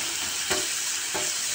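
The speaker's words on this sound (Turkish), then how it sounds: "Pırasalarımı güzelce kavuruyorum." Leeks sauté in a pan with a steady, close sizzle, broken twice by brief stirring scrapes as they are moved around.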